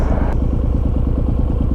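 A Suzuki M109R motorcycle engine runs close by with a deep, rhythmic, lumpy throb as the clutch is slowly let out in neutral, steady and loud throughout.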